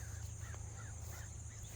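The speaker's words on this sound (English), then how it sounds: "Look at the birds up there waiting." Crows caw outside on a garden morning, a few repeated calls at moderate distance over a steady low hum and insect-like background noise.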